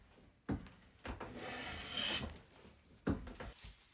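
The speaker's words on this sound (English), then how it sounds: "With the plane sharp and set, I can get to work flattening all of the pieces ready for gluing." Sharp hand plane shaving across pine boards to flatten them for gluing, a few separate strokes with a soft swishing rasp between knocks, faint and close.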